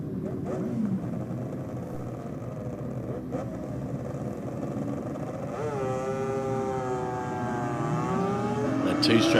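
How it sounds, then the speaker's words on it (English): Two-stroke motorcycle racing down a drag strip at a bike night, a buzzing engine note rising in pitch over a continuous roar of the venue, with an announcer talking over it. "Two-stroke coming from Shane Copings, Karasaki in the rocket lane"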